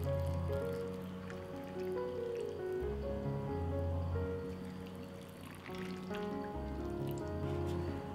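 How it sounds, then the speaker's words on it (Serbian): Water poured into canning jars one after another, a soft trickling stream with a rising tone as each jar fills, quiet and close, with brief pauses between jars. "I sada u svaku teglu sipam vodu."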